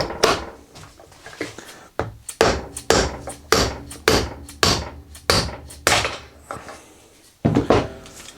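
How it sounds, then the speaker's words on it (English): Spark plug socket hammered to drive a worn bearing out of a 1962 KTM Ponny scooter wheel: a series of sharp metallic knocks, about one per second, loud and close, with short pauses between strikes. "Let's use the spark plug socket to get the bearing out from there."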